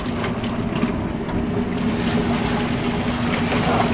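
Water pours into a portable washing machine for RV use, a continuous splashing gush with a steady low hum underneath, loud and close, with no talk.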